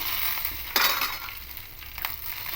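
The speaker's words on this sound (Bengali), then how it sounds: "কাঁচা লঙ্কা দিয়ে দেবো" Green chillies frying in ghee in a pan with hing and cumin, giving a close, bright, hissing sizzle with a few louder bursts and light scraping, no voices.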